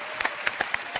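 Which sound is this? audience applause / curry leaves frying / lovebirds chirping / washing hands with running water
audience applause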